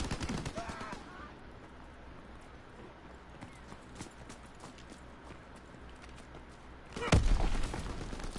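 Gunfire in Call of Duty WW2 multiplayer: a flurry of sharp shots opens, quieter battlefield ambience follows, then another loud burst of fire breaks in near the end.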